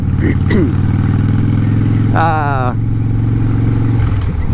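A motorcycle runs with a steady humming engine tone beneath a rider talking, with a brief rising whine partway through.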